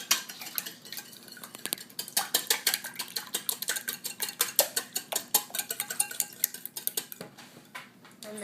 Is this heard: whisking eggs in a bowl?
yes